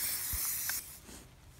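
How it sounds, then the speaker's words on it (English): Spray paint hisses from a can onto a kayak in a short, close burst that cuts off abruptly, leaving faint background noise. "You're just intermittently spraying just a little bit."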